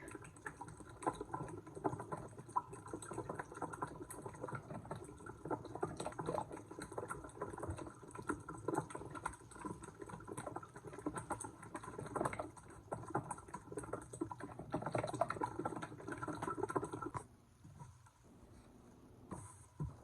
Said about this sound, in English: And then you're going to mix everything up.